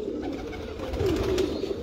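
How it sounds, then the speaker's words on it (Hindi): A prized seven-star racing pigeon gives a soft, low, close coo that rises and wavers midway, set against quiet room ambience with no talking. "मेन बड़ा 7 स्टार कबूतर है"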